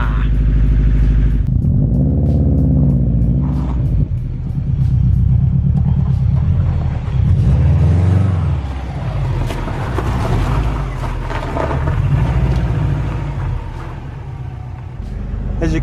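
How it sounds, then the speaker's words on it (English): A Subaru WRX Bugeye engine idles just after starting, a loud low rumbling drone with shifting tone as it settles, heard close by with some voice in the background. "As you can see, car is running."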